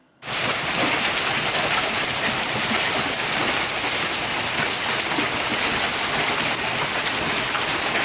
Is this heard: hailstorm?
yes